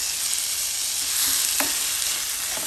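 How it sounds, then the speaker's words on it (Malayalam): Tomato and kokum (Malabar tamarind) are sautéed in a pan for a fried sardine curry, giving a steady, close sizzle throughout with a few faint scrapes of stirring. "വടക്കമ്പുളിയും ടൊമാറ്റോയും വെച്ചിട്ട് ഇതെല്ലാം കൂടെ ഒന്ന് വഴറ്റിയെടുക്കാം."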